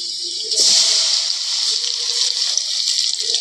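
Raw ground masala paste of spices and cumin poured into a cooking pot, heard as a close wet splashing gush and then a steady sloshing pour that lasts a few seconds.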